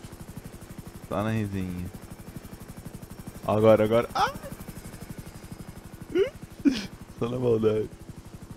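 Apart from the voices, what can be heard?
helicopter rotor in video game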